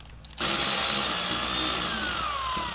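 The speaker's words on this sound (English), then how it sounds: "I have an electric ratchet. I'm gonna go up there and put that down." An electric ratchet runs against a bolt while a G35/G37 sedan automatic transmission is removed, starting abruptly and holding a loud, steady whirring buzz with a faint whine, close by.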